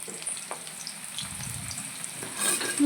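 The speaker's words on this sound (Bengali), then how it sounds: "চিকেনের জন্য আলু ভাজা হচ্ছে" Potatoes fry in a pan ahead of a chicken dish, giving a low, continuous sizzle with faint stirring clicks that grows slightly louder toward the end.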